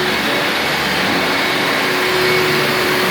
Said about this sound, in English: we're grinding this crack down so it's level